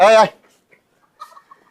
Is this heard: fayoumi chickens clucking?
yes